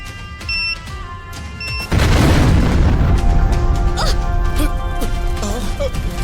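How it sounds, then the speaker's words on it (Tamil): A car blows up in a Tamil TV drama: a sudden heavy boom bursts in after tense music, then a loud roaring blast and crackling debris carry on with background score underneath. "ஒரு நிமிஷத்துல வெடிச்சிரும்"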